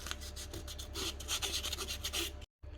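Wet and dry abrasive paper rubs back and forth over the metal lock pin surface of a Makita LS1013 miter saw, a close, steady rasping scrape that cuts off briefly near the end.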